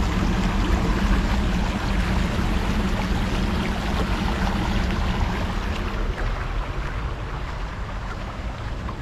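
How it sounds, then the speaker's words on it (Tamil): Water pours out of a small hillside dam fed by a waterfall, making a loud, steady, broadband rush that stays unbroken throughout, with no voices. "டேம்ல இருந்து தண்ணி போயிட்டு இருக்கு."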